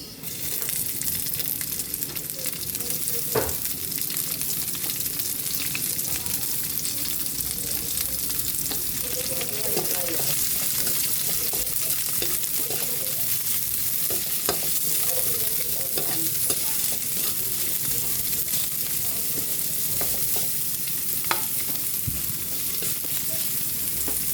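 Garlic and onion fry in a pan with a steady, close hiss and crackle that runs nonstop, broken by occasional stirring scrapes and clinks. No one speaks.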